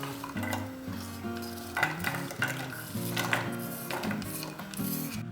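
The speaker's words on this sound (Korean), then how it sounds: "프라이팬에 식용유 2테이블스푼을 넣고 양파를 볶아주세요." Onions stir-frying in oil in a frying pan, a continuous sizzle broken by repeated scraping and clacking of a utensil against the pan, close and clear with no voices.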